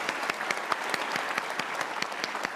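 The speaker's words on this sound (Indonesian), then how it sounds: "Kita kasih tepuk tangan dong untuk Romo." A studio audience on a talk show claps steadily, dense and even applause at moderate loudness filling the whole stretch with no voices over it.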